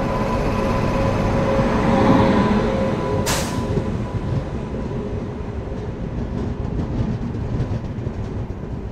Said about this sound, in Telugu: మన ట్రైన్ ఏ train cross చేయబోతుందంటే Pune Ernakulam express cross చేయబోతున్నాడు మరి కొద్దిసేపట్లో